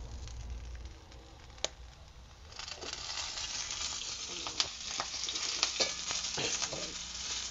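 Green chillies roasting in oil on a griddle over a wood-fired stove, a steady broadband sizzle and frying hiss that swells louder after the oil goes in, with occasional sharp pops and spits, close and alone without talk.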